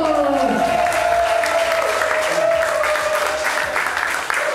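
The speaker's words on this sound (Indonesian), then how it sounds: "Beri tepuk tangan untuk Ipin." Audience applauds comedian Ipin at a stand-up comedy show, loud dense clapping with some cheering throughout, filling the room and tapering slightly at the end.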